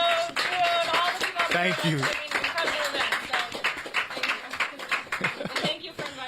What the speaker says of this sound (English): Can we get a round of applause for Matt and Ashley?